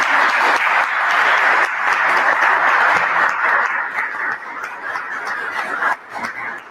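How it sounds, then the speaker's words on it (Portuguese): Audience applause for a professor at an academic philosophy event, a dense burst of clapping that stays strong, then thins and tapers toward the end. "Eu queria uma salva de palmas para o professor Alex."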